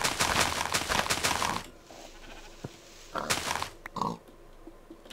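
Pigs oinking in the Minecraft video game, with short grunting calls alongside a dense burst of game noise, then quieter isolated oinks over near silence.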